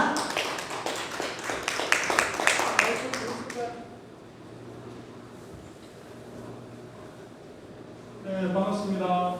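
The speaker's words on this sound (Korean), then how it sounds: "큰 박수로 강사 모시겠습니다." Brief burst of clapping from a lecture audience at an anniversary talk, fairly close and ragged, fading out after a few seconds into quiet room tone before a voice starts speaking.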